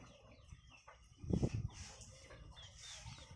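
Desi free-range farm chickens being called in give a short, fairly loud burst of clucking midway through a quiet outdoor stretch.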